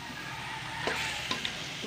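Onion, garlic and ginger sauté in a little oil with a soft, steady sizzle, and a couple of sharp scrapes from stirring.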